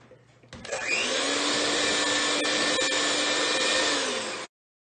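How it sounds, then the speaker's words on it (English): An electric mixer whirs steadily as it blends gooey ingredients into butter and sugar, starting up, holding a loud even hum for about four seconds, then cutting off abruptly. "we're going to mix those until they're well mixed into our butter and sugar combination"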